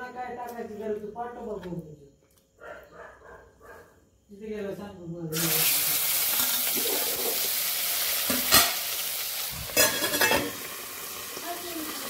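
Marinated fish frying in a pan: someone speaks first, then a loud steady sizzle breaks in and carries on, with spatula scrapes and clacks against the pan as the fish is stirred.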